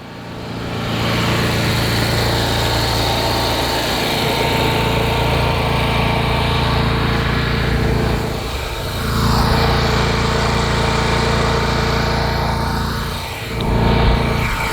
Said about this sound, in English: might as well have just mowed it with a Ferris